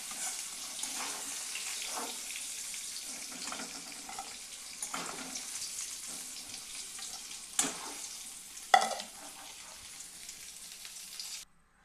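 Eggplant slices frying in a small amount of oil for a khoyra fish dish, a steady hiss with occasional louder spatters and light clinks, close and without talk, cutting out at the end.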